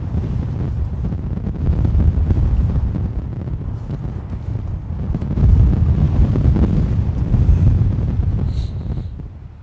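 Strong gusting wind from Storm Bert buffets the microphone at Gatwick Airport, a loud low roar that swells and eases in waves, with no clear voices.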